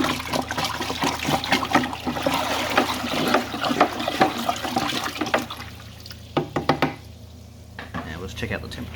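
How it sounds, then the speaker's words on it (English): Dextrose being stirred into water in a plastic fermenting bucket: continuous sloshing and swirling liquid with scraping knocks against the sides, tapering off near the end. "Give it a good stir."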